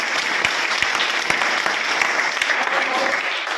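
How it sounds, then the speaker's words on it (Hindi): Audience applause in a Hindi-speaking gathering: a steady, dense wash of clapping with sharper individual claps standing out, loud and sustained throughout with no pauses. "जोरदार ताली दें।"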